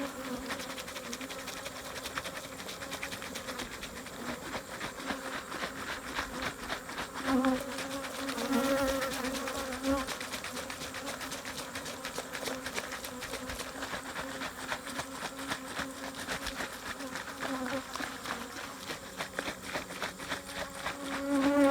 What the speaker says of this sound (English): you want to shake these bees for about a minute